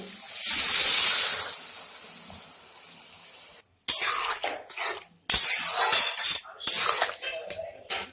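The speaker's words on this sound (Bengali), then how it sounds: "এখন দিয়ে দিচ্ছি জল" Water poured into a hot pan of fried carrots and potatoes bursts into a loud hissing sizzle that fades, followed by several clattering bursts of sizzling and utensil scrapes nearby.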